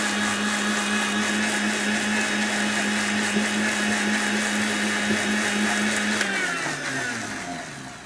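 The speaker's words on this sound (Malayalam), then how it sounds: "അടച്ചു വെച്ച് ഒരു പത്ത് സെക്കൻഡ് നേരത്തേക്ക് നമുക്ക് മിക്സ് ചെയ്യാം" A covered mixer blends mayonnaise ingredients for about ten seconds, giving a loud, steady whirring drone that runs without a break and then slows and winds down at the end.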